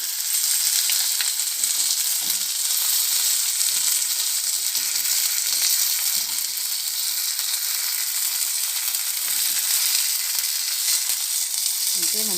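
Fish 65 frying in a little oil gives a steady, close, broadband sizzle that holds for the whole stretch, with faint low clatter from turning the pieces and a brief voice murmur near the end.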